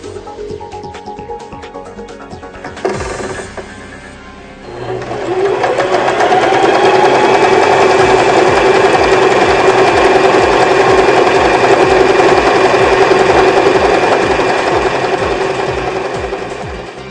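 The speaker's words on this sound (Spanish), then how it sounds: "Ahora vamos a hacer la puntada decorativa correspondiente a la letra C." A sewing machine runs steadily to stitch a decorative pattern for the letter C, a loud, fast, even mechanical whirring and chattering that builds up after a few quieter clicks and continues without pause.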